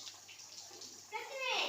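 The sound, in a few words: hot water running into a bath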